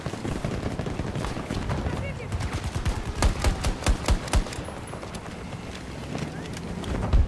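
Gunfire in the video game Battlefield 2042 crackles as rapid rhythmic bursts and single shots over ongoing game noise, peaking in a clear string of loud shots midway, while a voice talks over it.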